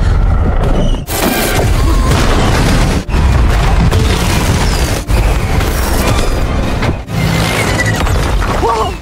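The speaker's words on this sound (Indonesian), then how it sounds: "Casey dan ketiga gadis itu bekerja sama untuk meledakkan petasan yang ada di dalam" Firecrackers burst inside a warehouse in loud, dense, continuous crackling and booming volleys, broken by brief pauses between bursts and filling the space close and heavy.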